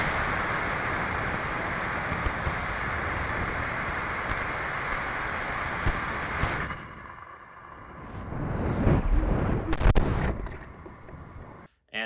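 A model rocket with an F10 motor roars in a steady, loud broadband rush for several seconds, then cuts off, leaving fainter wind noise and a few sharp bumps and clicks.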